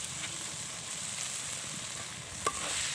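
Chopped onion and chili being stirred in a frying pan, a soft, low sizzle with light scraping and one brief metallic tap near the end.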